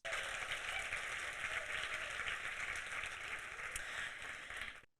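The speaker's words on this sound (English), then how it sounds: "Let's give them all a round of applause one more time." Steady applause from a crowd, dense and even for about five seconds before fading out quickly at the end.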